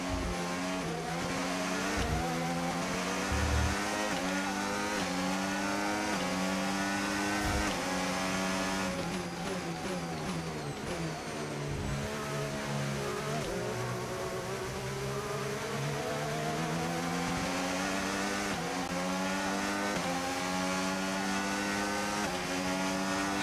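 Formula 1 race car engines in the F1 25 game, recorded at the China circuit: a loud, continuous high-revving whine that rises and falls through gear changes for the whole stretch, with no talk.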